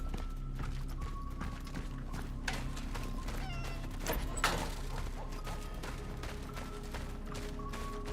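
A cat meows a few times in the video game Cronos: The New Dawn, set against a steady droning game soundscape with scattered clicks and footstep-like knocks.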